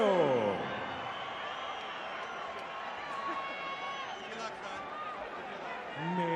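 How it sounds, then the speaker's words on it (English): Applause and crowd noise fill a boxing arena as a singer is introduced for the Mexican national anthem before Julio Cesar Chavez vs. Ivan Robinson, a steady broad roar with cheering and chatter throughout, swelling slightly at the start and end. "a round of applause for Mario"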